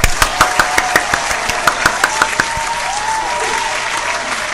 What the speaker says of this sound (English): Let's give Jen a round of applause.